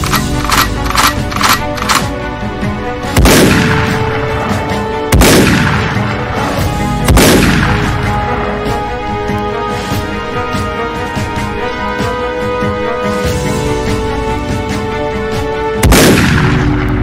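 Staged gunfire in a comedy skit: several loud, sharp bangs with ringing tails, spaced a couple of seconds apart, over a steady background.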